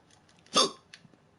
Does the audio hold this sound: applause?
no